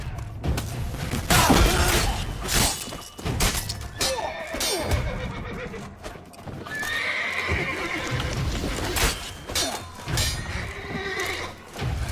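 Horses neigh and whinny loudly amid hooves clopping and crashing, breaking noises, a busy chaotic battle scene in The Witcher 3 with several bursts throughout.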